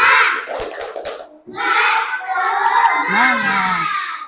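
A group of children clap in a rhythmic pattern for a classroom spirit cheer, bursts of claps mixed with loud shouting and chanting voices, close and lively.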